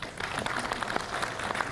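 An audience at a museum ribbon cutting applauds, a soft, fairly distant patter of many hands clapping continuously for a couple of seconds.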